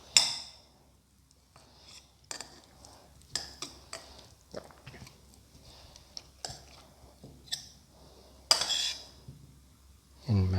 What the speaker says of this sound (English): Now put in the boiled potato pieces